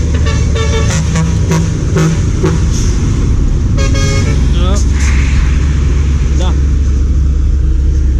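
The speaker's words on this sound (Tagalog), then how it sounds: "lalaki ng truck dito" Loud, constant roar of heavy road traffic close by, with several horn toots and a passing large truck; people talk over the din.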